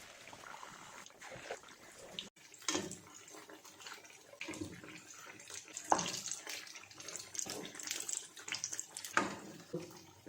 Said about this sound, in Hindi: तो अब करते हैं जी फ्राई।